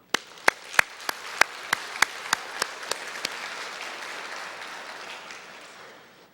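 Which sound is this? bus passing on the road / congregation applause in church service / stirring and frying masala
congregation applause in church service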